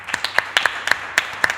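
Sparse welcome applause at the opening of a seminar: a few people clap in uneven, separate claps over a quiet room, thin and close rather than a full ovation.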